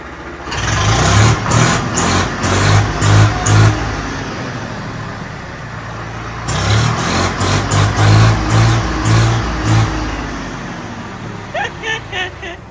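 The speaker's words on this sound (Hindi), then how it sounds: "ओल्ड मॉडल किर्लोस्कर इंजन की आवाज सुन रहे हो, दहाड़ सुन रहे हो" Old-model Kirloskar tractor engine fitted with a new silencer, running loud and close with a deep throbbing beat, revving in bursts twice with a lull between, then settling near the end.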